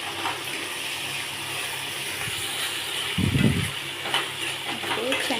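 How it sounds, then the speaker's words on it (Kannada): Tomato and mint fry in a pan for a tamarind chutney, giving a steady soft sizzle throughout with a brief louder stir or clatter in the middle. "ಇವಾಗ ಪುದೀನ ಸ್ವಲ್ಪ ಹಾಕೋಣ. ಚೆನ್ನಾಗಿ ಫ್ರೈ ಮಾಡ್ಕೊಳ್ಳೋಣ."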